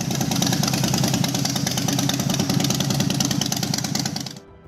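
An S&S X-Wedge 56.25-degree V-twin motorcycle engine idles close by with a loud, steady, lumpy pulsing beat, then cuts off sharply near the end.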